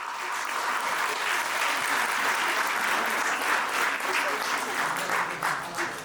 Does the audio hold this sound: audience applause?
yes